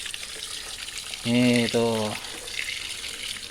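Water runs from a tap to fill a container in a garden setting, a steady close gush broken by a brief pause, with a voice speaking briefly nearby.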